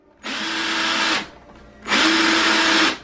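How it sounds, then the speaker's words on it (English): Power drill spinning a folded length of wire to twist it into faux barbed wire for a costume, two sustained steady whirring bursts, loud and close, separated by a short pause, with no talking. "place either end into the drill, lock it in, and then turn it on."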